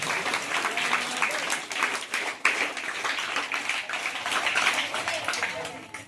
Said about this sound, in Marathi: त्यांचा जोरदार टाळ्या वाजवून आपण पुन्हा एकदा स्वागत करूया